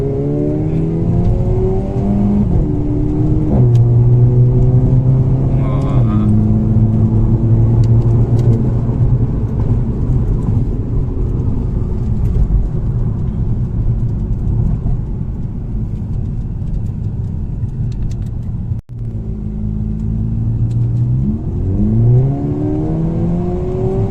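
A hot hatch car accelerates hard at speed, its engine rising in pitch through repeated gear changes, with a loud steady cabin rumble and road roar throughout and occasional quiet talk inside.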